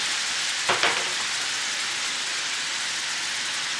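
Peppers and onions dropped into a hot skillet of spicy sausage, a brief burst of louder crackle at the moment they land, then a steady, even sizzle continuing close by.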